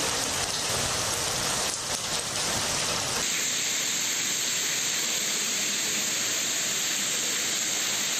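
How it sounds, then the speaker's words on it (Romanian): Heavy storm rain in Milan falling in a dense, steady roar that fills the whole scene, with a slightly rougher, louder wash in the first few seconds before settling into a constant hiss with no voices. "Vremea extremă a fost însoțită de ploi abundente și grindină."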